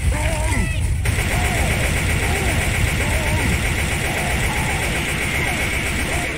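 Rapid gunfire in Left 4 Dead 2 as players shoot at the Tank, a dense continuous barrage of shots layered over game noise and voices throughout.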